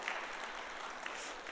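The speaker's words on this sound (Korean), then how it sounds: "뭘 박수를 치세요." Congregation applauding in a church during a sermon, a steady, moderately faint wash of hand claps with no voices over it.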